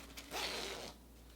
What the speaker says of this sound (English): I'm just realizing that my zipper